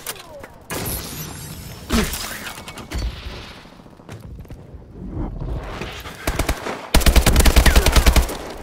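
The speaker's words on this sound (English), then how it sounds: "Remote turret ready for deployment." A remote turret fires in the shooter game Advanced Warfare, with scattered loud gunshots building to a sustained rapid automatic burst near the end.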